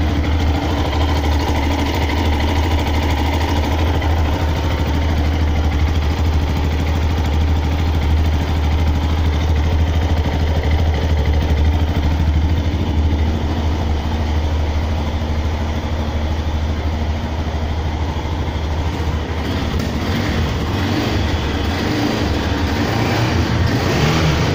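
A 2006 Aprilia Pegaso Strada 650 motorcycle idles evenly, a steady close thrum with a smooth, unchanging rhythm throughout.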